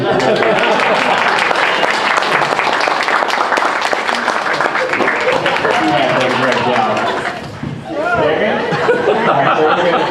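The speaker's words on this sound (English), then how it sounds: "can y'all give this gentleman right here applause?" An audience at an Anderson County, South Carolina state house forum applauds a gentleman: a dense, steady wash of clapping fills the room, mixed with crowd chatter and a chuckle, dipping briefly near the end before swelling again.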